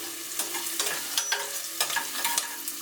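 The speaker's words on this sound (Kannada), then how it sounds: "ಈರುಳ್ಳಿ ಒಂದು ಸ್ವಲ್ಪ ಕಾಯಿಸ್ಬೇಕು" Onion and cut beetroot fry in hot oil while a spoon scrapes and stirs them in the pan, giving a continuous close sizzle with regular scraping strokes.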